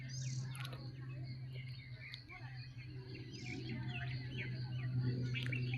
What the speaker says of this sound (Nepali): चराचुरुङ्गीहरू उडेको अनि उनीहरूको आवाज